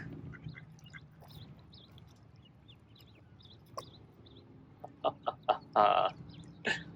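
Bird calls from a family group, quiet and intermittent at first, then several short, louder squawks and a sustained honking call near the end over a low background murmur.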